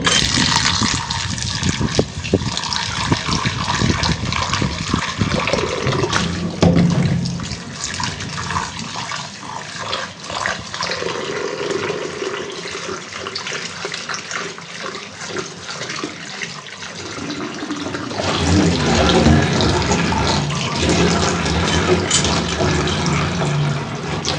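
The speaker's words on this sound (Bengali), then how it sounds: "ধনে পাতা ধুয়ে নিই।" Coriander leaves rinsed under a running kitchen tap, a steady close splashing water stream throughout, growing louder and fuller near the end as the flow hits the leaves and sink.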